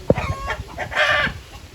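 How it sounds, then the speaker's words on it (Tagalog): A hen laying an egg clucks up close in a short, drawn-out series of throaty cackles, loud and nasal, rising and falling over a faint farmyard background. "tingnan nyo yung sound ng manok"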